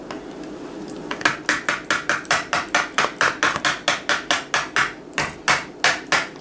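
A whisk knocks against a mixing bowl of zucchini bread batter in a steady run of about eighteen sharp, evenly spaced taps, close and fairly loud, with no talk over them.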